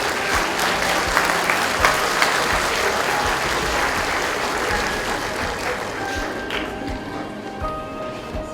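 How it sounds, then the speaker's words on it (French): Audience applause at a prize-giving and closing ceremony, steady dense clapping that carries on throughout and thins slightly toward the end. "Applaudissements et applaudissements."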